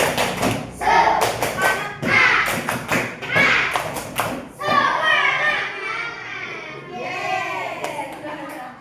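Schoolchildren in an Indonesian classroom perform a rhythmic 'tepuk semangat' clapping chant, with loud bursts of clapping in the first half followed by chanting voices, all close and lively.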